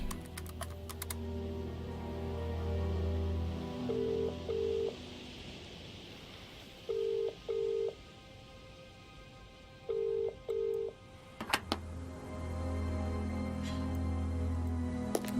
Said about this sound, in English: Answer the phone! Answer the phone!